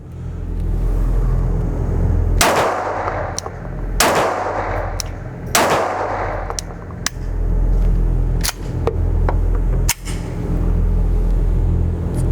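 .22 LR rimfire gunshots from a Glock G44 pistol at an outdoor shooting range: about eight sharp cracks, irregularly spaced, three louder shots early and quicker lighter pops later, over a steady low rumble.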